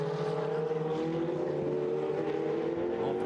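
Ferrari Challenge race cars run at Fuji Speedway, a steady, sustained engine drone holding one pitch that drifts slightly downward, continuous and moderately loud throughout with no voices.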